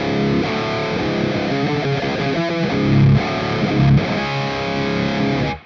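A heavily distorted electric guitar through an MMS Clairvoyant amp simulator plays loud, sustained chords and riffs, with a thick, buzzing, saturated tone that cuts off abruptly at the end.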